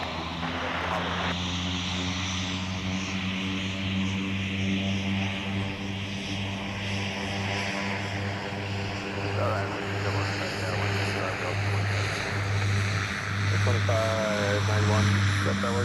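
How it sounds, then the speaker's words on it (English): Propeller airplane at MSP airport, a steady droning buzz with strong low engine tones that holds loud and close throughout, overlapping radio chatter and voices. "Love the sound of those propellers. And that buzz."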